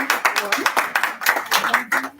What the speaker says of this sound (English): A round of applause sounding